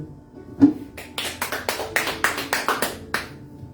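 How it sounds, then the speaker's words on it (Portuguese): A church congregation applauding during a service: a run of about a dozen sharp, evenly spaced claps that starts after a single louder clap and fades out near the end. "Aplauda o Senhor"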